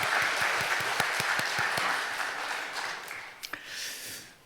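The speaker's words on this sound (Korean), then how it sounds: "하나님께 영광 박수 올려드리겠습니다" A church congregation at Sunday worship breaks into applause, starting with a few distinct sharp claps and swelling into a dense, fading round of clapping.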